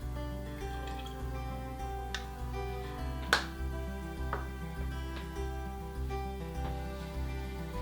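Old model painting ink falls from a dropper into water in quick, small, repeated drips, each a soft tick over a steady low hum.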